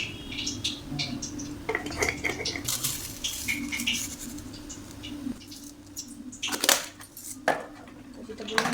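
A utensil stirs red chili sauce, tomato sauce, soy sauce and chili powder together in a pan, giving repeated scraping clinks and taps against the metal, close up, with faint kitchen background noise.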